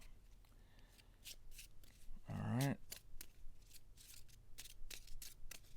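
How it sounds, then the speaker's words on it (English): Cards for the Mythos deck of the Cthulhu: Death May Die board game are shuffled in one quick riffle-like burst of papery flicking. It sits among soft table handling noises, with a person speaking briefly. "These get shuffled into the Mythos deck."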